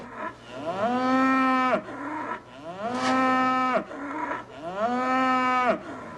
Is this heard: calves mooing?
yes